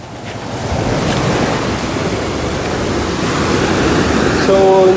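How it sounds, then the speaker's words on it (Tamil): Storm-driven sea waves crash and churn on the shore at Point Pedro, a loud continuous roar of surf mixed with heavy wind buffeting. "கடல் வேற போட்டு தள்ளுது."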